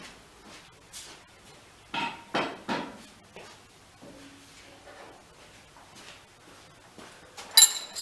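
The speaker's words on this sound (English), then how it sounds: "use a rubber mallet or a piece of wood and a hammer to hammer that off this shaft here" A rubber mallet knocks a part off the shaft of a Delta Unisaw table saw, with a handful of sharp, close, irregular thuds and clanks spaced across a quiet workshop, heaviest near the end.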